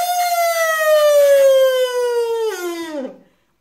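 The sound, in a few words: kazoo imitating a siren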